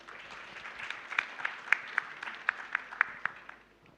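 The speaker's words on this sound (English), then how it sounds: "can we get a round of applause for Mr. Shamim?" A modest round of applause comes from the audience at a healthcare investment summit session, with scattered distinct claps building briefly and then fading out after a few seconds.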